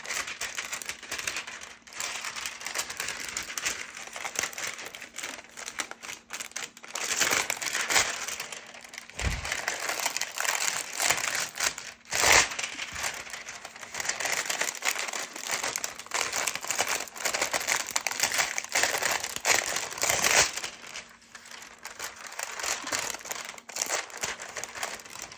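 Foil is crinkled and crumpled by hand for a glitter floral tumbler craft, a close, continuous crackling rustle with brief pauses and sharp crinkly bursts throughout.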